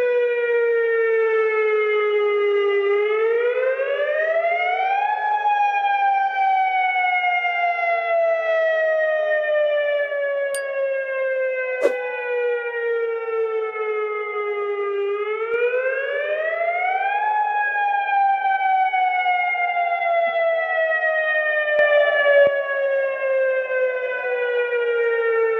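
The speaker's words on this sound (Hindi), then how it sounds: "نستمع وإياكم إلى صافرات الإنذار." Civil defense sirens sound across the country to announce a curfew, a loud steady wail rising and falling in long slow cycles, heard alone without speech.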